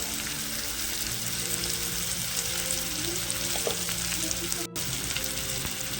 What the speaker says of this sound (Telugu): ప్యాన్ పెట్టాను, ఆయిల్ వేసానండి. ఉల్లిగడ్డ పచ్చిమిర్చి ముక్కలు కూడా యాడ్ చేశాను.